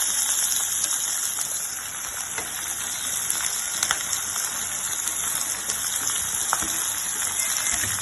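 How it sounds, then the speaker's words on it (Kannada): Finely chopped onions fry in hot oil for a soup-style dish, a dense steady sizzle with scattered crackles and pops, close and continuous without speech. "ಈಗ ಇದಕ್ಕೆ ಈರುಳ್ಳಿಯನ್ನು, ಸಣ್ಣದಾಗಿ ಹೆಚ್ಚಿಟ್ಟಿರುವಂತಹ ಈರುಳ್ಳಿಯನ್ನು ಇದಕ್ಕೆ ಹಾಕ್ತಾ ಇದ್ದೀವಿ"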